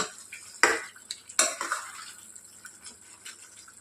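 Curry ingredients being mashed in a pan for an egg curry, with two sharp metal scrapes of a utensil against the pan followed by softer stirring and clinking, close and alone.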